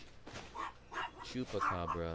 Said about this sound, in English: And you can hear my dog barking.